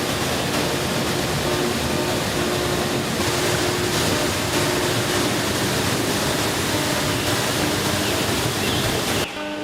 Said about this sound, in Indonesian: Air terjun misalnya